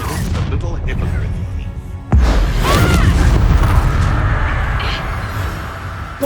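A single heavy Bombarda spell blast from Hogwarts Legacy hits with a sudden loud boom and crash, then a rumbling, crumbling tail fades over several seconds, with a voice present nearby.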